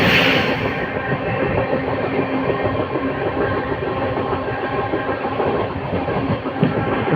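The Prayagraj Express rolls along steadily after departing, a continuous broadband rumble of wheels and carriages with faint clattering, loud and unbroken throughout.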